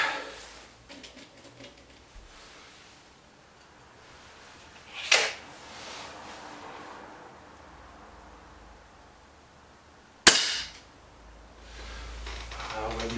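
Two sharp cracks of air rifle shots from a BSA Lightning SE and a Webley Xocet ring out about five seconds apart, each followed by a short decay over quiet background noise.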